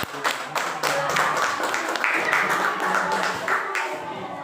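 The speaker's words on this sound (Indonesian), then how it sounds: "beri tepuk tangan untuk kelompok coklat" Students in a classroom applaud a peer group, a ragged run of many hand claps lasting several seconds, with chatter and voices mixed in.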